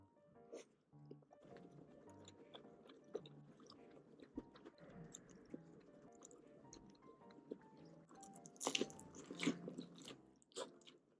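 Someone chews rice-cake tteokbokki and fish cake up close, with soft wet bites and crunchy mouth sounds in a steady, irregular rhythm and no one talking.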